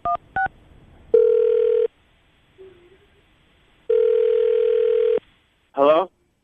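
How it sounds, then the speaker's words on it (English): A telephone line gives two short dialing tones, then two long steady ringback tones with a silent gap between them, ending in a brief warbling burst as the call connects on a morning radio show. "we're going to call him right now, see if we can get him on the phone"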